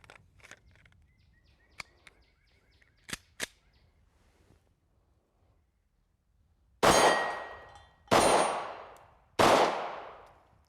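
Three loud, sharp 9mm pistol shots from a Smith & Wesson EZ ring out at an outdoor range, about a second apart, each with a ringing decay. They follow a few fainter distant shots and metallic clinks.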